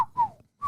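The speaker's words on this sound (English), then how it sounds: "when you blow it, it kind of sounds like a widgeon whistle" A Paw Patrol plastic toy trumpet blown like a widgeon whistle gives two short, clear whistled toots with a falling pitch, close and fairly loud, separated by a brief silence.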